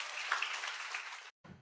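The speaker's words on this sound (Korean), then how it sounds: "우리 큰 박수로 우리 모시도록 하겠습니다" A church congregation at a middle school worship service gives faint, even applause to welcome a missionary, which cuts off abruptly after about a second.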